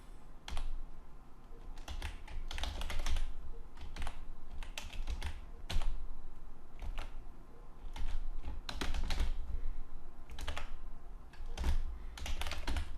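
PHP code is typed on a computer keyboard in clusters of quick key clicks separated by short pauses. The keys sound close and fairly quiet, with no voice present.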